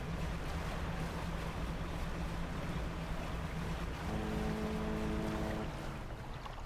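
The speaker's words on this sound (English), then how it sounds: "Wait, that was a normal boat sound." Boat in a boating video game, a continuous low engine drone over washing water, with a tonal hum swelling briefly near the end.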